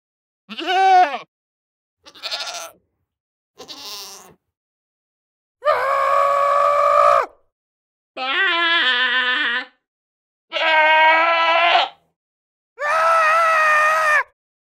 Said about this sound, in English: 1 out of every 50 goats will be a screaming goat